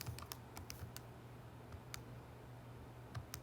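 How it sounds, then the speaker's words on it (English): Numbers keyed into a calculator: a quick run of light, close tapping clicks in an irregular rhythm over a faint steady hum, with no voices. "You can type that straight into your calculator."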